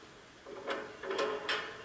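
A heavy door is unbarred in Resident Evil 4, giving a few short wooden scrapes and clunks as the bar slides free, close and fairly quiet over a low background hum.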